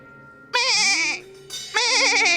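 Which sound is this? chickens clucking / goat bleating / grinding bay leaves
goat bleating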